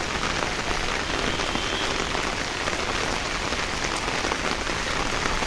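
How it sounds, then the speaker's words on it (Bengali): Rain drums on an umbrella held over a flooded school playing field, a close, continuous patter of countless drops with no voices. "আমার ছাতার উপরে পানি পড়তেছে বৃষ্টির, সেটার সাউন্ডটা কত সুন্দর"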